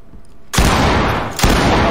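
In the tactical shooter Ready or Not, a breaching charge blasts a door open in a hotel: a loud, sudden explosive burst, then a second crack of gunfire close behind, harsh and very near.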